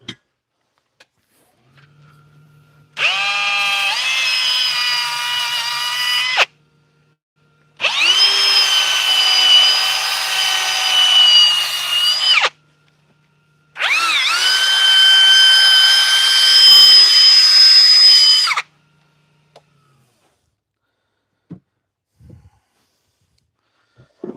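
A small wood lathe turning wood whines loudly in three sustained runs, each lasting several seconds and separated by brief silences. A low hum sits underneath, and a few faint knocks follow the last run.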